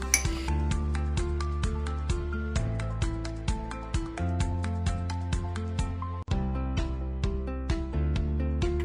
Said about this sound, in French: Et on mélange avec la fourchette.